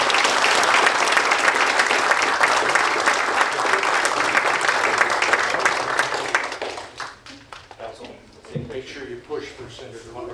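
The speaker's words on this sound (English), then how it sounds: "Big round of applause to my friends." Sustained applause from the crowd at a La Verne city council meeting honoring a senator, dense and steady for about seven seconds before fading into scattered claps and room noise.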